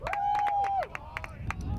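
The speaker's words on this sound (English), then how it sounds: "Crowd is appreciative of the effort." Spectators at a high school lacrosse game, Lake Orion versus Bloomfield Hills, give scattered, uneven claps after a sustained whistle-like tone, with faint crowd murmur in the background.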